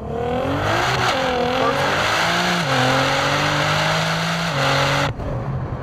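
A 1000 HP street-tuned Nissan GT-R roars through a first-gear roll-on, its engine note climbing steadily in pitch, then dropping sharply as the gear changes, loud and close with no talking.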